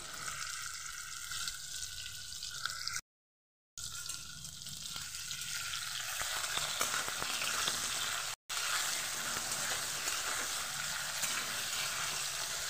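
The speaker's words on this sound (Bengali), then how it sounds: "তেল কড়াই গরম হয়ে গেছে, এবার আলুগুলো দিয়ে দেবো।" Potatoes frying in hot oil in a wok make a soft, continuous sizzle that stays fairly quiet and steady from start to finish.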